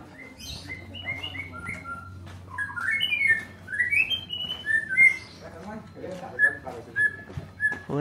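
Bird song from a magpie robin, a caged bird commonly kept in a Bandung kampung alley, with bright whistled phrases and chirps repeating through the clip over a low hum and faint background voices.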